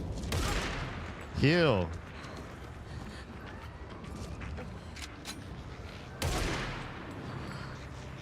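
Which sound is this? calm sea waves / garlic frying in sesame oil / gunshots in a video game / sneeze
gunshots in a video game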